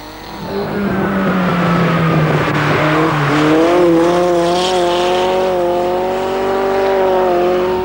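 Formula Ford single-seater racing cars with four-speed racing gearboxes on a greasy wet track, engines loud and close, rising and falling in pitch as they accelerate and pass.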